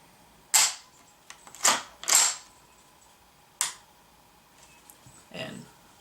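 Sharp trigger reset clicks from a Ruger 10/22 fitted with a drop-in trigger, a few crisp close mechanical snaps spaced irregularly in a quiet room.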